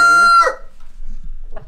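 Chickens perched on roosts at a snowy farm give one loud, close, crow-like call, then drop to a few soft, low clucks and shuffling noises.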